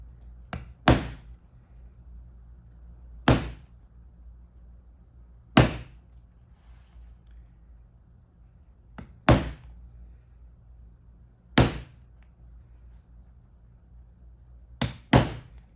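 Sharp hammer blows on leather land one or two at a time, spaced a few seconds apart, loud and close in an otherwise quiet room.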